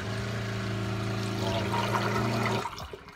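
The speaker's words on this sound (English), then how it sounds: "It's got an automatic flush button" An automatic-flush marine toilet with a macerator on a sailboat runs with a steady mechanical pump whine and rushing water, then cuts off abruptly near the end, leaving a brief trickle and gurgle.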